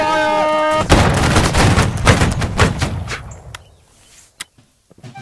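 A thunderous musket volley in the video game Holdfast, with many shots crashing together in a dense roar that fades into scattered single shots and echoes, up close.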